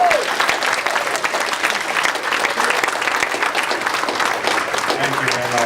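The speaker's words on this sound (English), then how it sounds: "Let's give them applause all the way back to their seat" An awards ceremony crowd claps steadily as employer honorees return to their seats, a thick, even wash of applause with faint voices mixed in toward the end.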